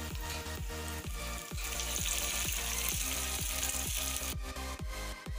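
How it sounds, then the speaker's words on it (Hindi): Tadka tempering sizzles as it is poured into dhaba-style dal: a loud, continuous frying hiss that grows brighter midway, with low, regular knocks underneath. "अब इसमें दाल में इसका तड़का लगाते हैं।"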